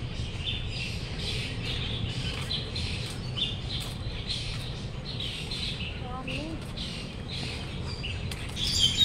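Many birds chirp and squawk together in a garden, a continuous dense chorus of overlapping calls at moderate distance over low background rumble, with a voice briefly present.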